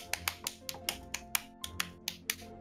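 Uneven, sharp hand clapping in a Golf It! game session, about fifteen crisp, close claps in an irregular rhythm over a low musical hum.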